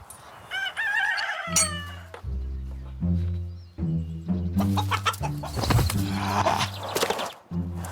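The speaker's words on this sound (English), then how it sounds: "he has to run the gauntlet of Rocky the Rooster." Rooster and chickens on a farm: loud crowing from a nearby rooster, with clucks and squawks from the flock, tonal calls repeating over several seconds.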